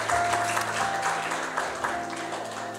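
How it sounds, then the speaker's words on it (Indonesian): A church congregation claps together in praise of Jesus, a dense burst of applause heard close with musical tones sounding underneath. "Tepuk tangan buat Tuhan Yesus"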